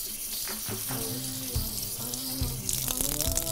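Hands rinsed under a running kitchen tap, a steady rushing stream of water splashing off fingers and wrists, close and continuous, with soft background music and no speech.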